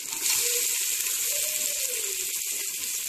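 Onions sauté with ginger garlic paste in a pan for homemade nonbu kanji, giving a steady, close hiss of sizzling oil with faint tonal whines, with no talk over it.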